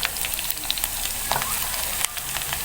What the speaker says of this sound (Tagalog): Kaya ginigisa ko muna to para kumano yung amoy ng bawang